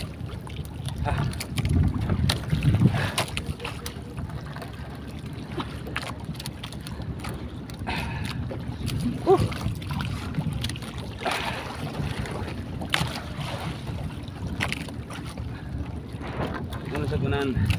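Sea waves reaching a small fishing boat out netting fish, with irregular sloshing and splashing against the hull, wind buffeting the microphone and occasional thumps, steady throughout with scattered voices.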